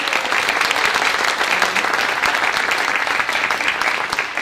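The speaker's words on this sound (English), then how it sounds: "So please give them a round of applause." Audience applause for the leaders of a women's chorus at a holiday pops concert: dense, steady clapping filling the whole stretch at even loudness, with no talk over it.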